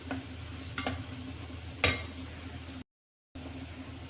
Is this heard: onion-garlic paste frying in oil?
yes